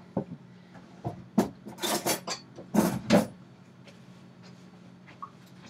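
One egg and a tablespoon of milk whisked for egg wash, a burst of quick scraping and clinking strokes against a bowl in the middle, with sparse taps before and near-quiet after.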